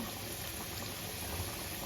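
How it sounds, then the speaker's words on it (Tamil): Water pours into a cooking pot of potatoes in a home kitchen, a soft, steady liquid rush that stays faint and even for a couple of seconds with no talking. "அதை வந்து தண்ணியை ஊற்றிடுவோம்"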